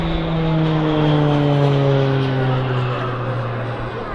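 A RAAF Roulette aerobatic propeller plane drones steadily through a slow loop, a strong continuous engine note with harmonic bands that holds loud across the whole span, with no talk over it.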